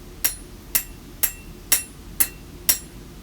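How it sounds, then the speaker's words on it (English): Six sharp metallic hammer strikes ring out at an even, steady rhythm, each a bright clang that decays quickly, close by with no talking. "I really wanted to take advantage of hitting it on the edge, kind of a half on, half off"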